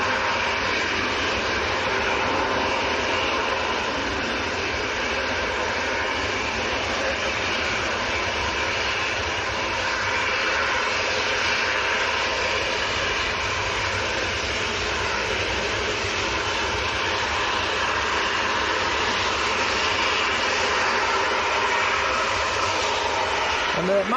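A TUI Boeing 787-8 departs Manchester Airport for Palma, its jet engines a steady, broad distant roar that holds evenly for the whole stretch, with a voice talking over it at times.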